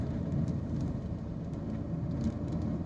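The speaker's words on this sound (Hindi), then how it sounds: "और ये बारिश स्टार्ट हो चुकी है" Steady rain falling outdoors in India just as a shower begins, a dense continuous hiss with scattered drop patters and a low rumble underneath, no voices.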